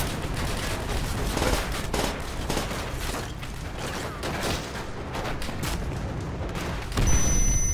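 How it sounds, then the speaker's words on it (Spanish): Dense, continuous gunfire in Call of Duty: World at War, rapid machine-gun bursts layered with other shots and distant booms, loud and unbroken across the whole stretch with a heavier surge near the end. "Es como una ametralladora, ¿sí?"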